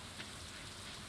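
Soft, steady rain hiss in the secret woods of the video game Stardew Valley, a faint, even patter with no other sound over it.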